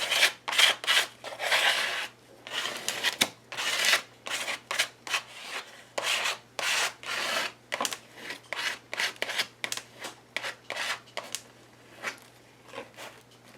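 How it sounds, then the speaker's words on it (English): A credit card scrapes across mixed media paper, spreading yellow ochre paint in a series of short, dry, rasping strokes with brief pauses between them, close and fairly quiet. "And drag that around with my credit card."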